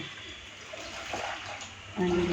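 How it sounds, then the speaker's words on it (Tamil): Ground amla and ginger paste is poured out with water, giving a brief close splash and trickle while a voice talks over it. "இப்போ நம்ம அரைச்சி வச்சு பேஸ்ட் எல்லாமே ஊற்றி ஒரு ரெண்டு கிளாஸ் அளவுக்கு"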